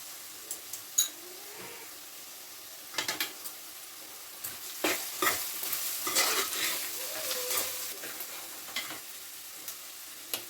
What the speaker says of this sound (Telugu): కారం ఉప్పు వేసిన కదండి, కొద్దిగా ఫ్రై అవ్వాలి